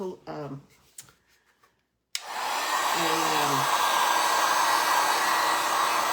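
A hair dryer switches on abruptly and blows with a steady, loud whooshing roar to dry a handmade pull toy duck, after a voice talks briefly beforehand and once more over the running dryer.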